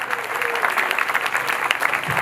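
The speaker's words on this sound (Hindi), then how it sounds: "ऐसे आज तालियां बजनी चाहिए।" Brief burst of dense audience applause at a religious felicitation ceremony in Bangalore, many hands clapping together in a steady, loud roar.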